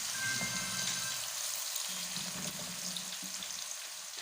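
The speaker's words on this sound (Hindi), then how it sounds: "और ये ऑयल लिया है, इसमें हम पहले प्याज डालेंगे। 1 प्याज डाली है मैंने।" Finely chopped onion frying in hot oil, a soft continuous sizzle with light crackle, fairly quiet and steady throughout, no voices.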